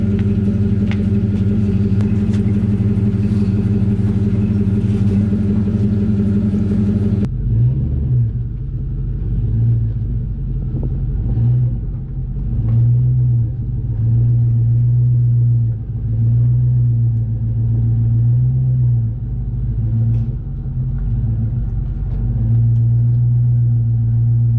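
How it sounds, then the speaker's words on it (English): Pickup truck with a swapped Cummins engine in a 6.4 Ford, idling loudly with a deep rumble, then moving and parking inside a shop with low pulsing engine tones and faint clanks. "we got the truck moved and parked out of the way"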